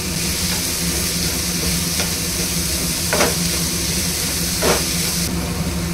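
Chopped green chilli, onion and capsicum fry in a pan with a steady, loud sizzle, interrupted now and then by a couple of short scraping stirs.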